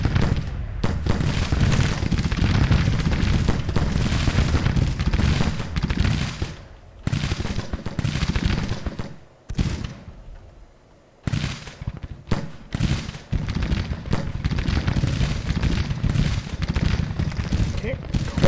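Musket volleys and artillery rumble continuously across a Grand Tactician Civil War battlefield, dense crackling gunfire dipping briefly into near silence before resuming, with someone talking over it.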